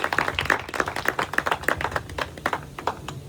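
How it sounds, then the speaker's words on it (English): Light applause from a small audience at a guest-speaker event, with scattered individual claps in an uneven rhythm, fairly faint and brief. "Give yourselves a round of applause."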